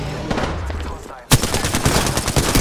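Rapid bursts of automatic gunfire break out in Apex Legends on console after a quieter stretch, loud and close, with sharp repeated cracks.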